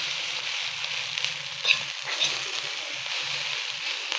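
Fried rice with hotdog frying in a wok, a steady close sizzle throughout with a brief louder flare of spatter partway through.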